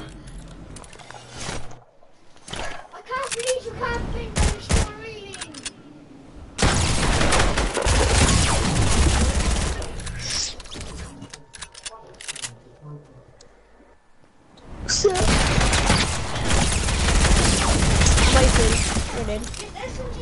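An SMG fires in an online shooter game, heard as rapid, loud bursts of automatic gunfire in several long volleys. Sharp short clicks and gaps separate the volleys, and excited voices talk over the action.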